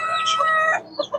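Backyard chickens being fed on a small farm, one drawn-out crowing call followed by a few short clucks, close and clear.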